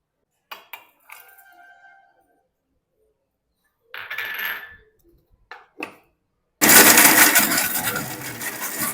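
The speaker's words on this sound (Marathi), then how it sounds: "सगळ्यात पहिल्यांदा आपण खोबरं आणि जिरं आहे ते वाटून घ्यायचं" A kitchen mixer grinder grinds coconut and cumin for tomato saar, starting with a few short clinks and brief pulses, then a loud, continuous broadband whirr running steadily to the end.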